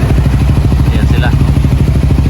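Vehicles and motorcycles driving onto a ferry boat while passengers queue, a loud steady engine rumble with repeated clattering thuds as they roll aboard, with people talking nearby.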